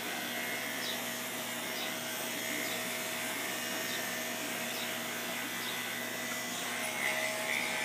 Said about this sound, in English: these clippers, which actually have a handle on them